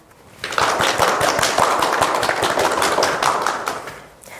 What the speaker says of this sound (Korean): 큰 박수로 인사를 부탁드립니다